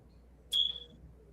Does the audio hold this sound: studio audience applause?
no